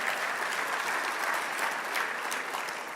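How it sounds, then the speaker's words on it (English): Audience applause at the Black Men XCEL Summit awards gala hosted by FedEx, a dense, steady wash of many hands clapping that holds evenly for the whole stretch without any voices. "please give FedEx a round of applause"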